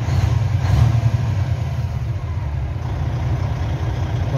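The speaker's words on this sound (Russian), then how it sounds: "Турбину, слушайте, да, как она работает," A car's turbocharged engine idles softly and steadily, a smooth, even low rumble running close by without pauses and with no talking.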